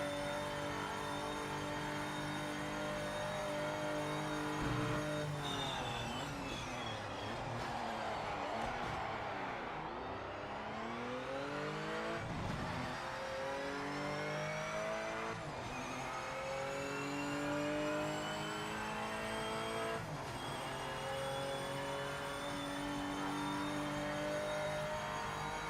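A Porsche race car engine in the Project Motor Racing video game drones steadily and loud throughout, its pitch sweeping down and back up as it shifts and accelerates through corners, with faint crowd ambience beneath.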